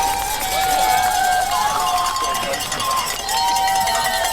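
A big roadside crowd at the London Half Marathon keeps up a steady wash of cheering and shouting for the runners, loud and continuous, with whistles and voices mixed in.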